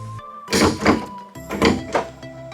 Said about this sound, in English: to be able to get this thing to close, you really have to, I mean, really press it